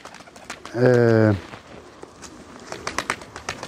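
A pigeon gives a single short coo up close, followed by faint shuffling and tapping movements.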